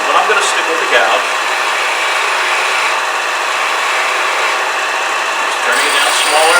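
A wood lathe spins while a gouge shaves a bottle stopper down, giving a steady hissing, scraping whir that continues throughout, with someone talking over it.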